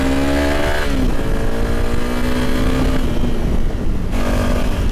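Honda CRF300L single-cylinder motorcycle engine revving and pulling hard, a steady loud drone with rising pitch through gear changes, close and continuous with no talking.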